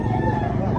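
A fighting rooster at a cockfight expo in a busy Cebu public market gives a brief, loud crow close by amid crowd noise.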